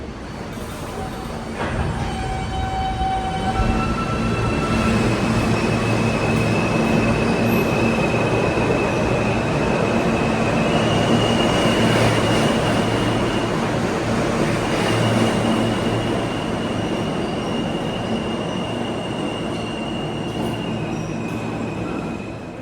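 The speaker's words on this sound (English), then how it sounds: "the path trains are just over here" A PATH subway train rumbles steadily through an underground station, with loud continuous wheel and car noise plus high squealing tones from the rails, no voices over it.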